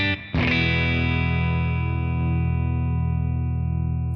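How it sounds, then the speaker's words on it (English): An electric guitar played through the vibrato channel of a 1967 Blackface Fender Twin Reverb with an edge pedal rings out in a sustained, full chord after a brief strum, decaying slowly and loud. "So this is the Blackface Twin vibrato channel input, edge pedal DI first without the Timmy."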